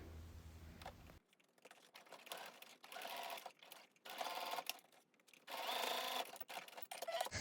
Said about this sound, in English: we're going to sew the other side into a channel as well.